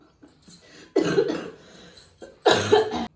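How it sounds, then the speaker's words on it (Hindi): Two harsh coughs, close and loud, separated by a short pause, with faint breathy sounds before the first. "मेरा ना खांसी हो रही"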